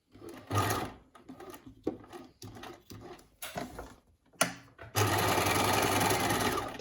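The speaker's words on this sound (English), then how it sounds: "I now stitch the 2 pieces into place on the edge." Sewing machine stitching pieces of scrub fabric together, starting in short stop-and-go bursts and then settling into one loud, continuous run of rapid stitching close by.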